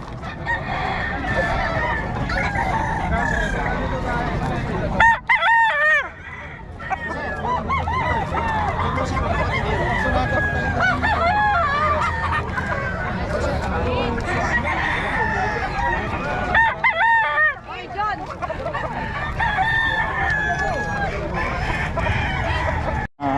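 A rooster crows twice, loud and close, against steady clucking and a chattering crowd of voices at a rooster market.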